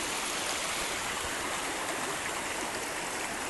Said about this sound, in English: Look how clear that water is.